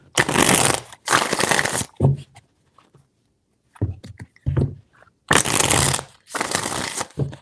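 Several quick riffling bursts of tarot cards being shuffled close up, in separate rapid rounds with short pauses between them.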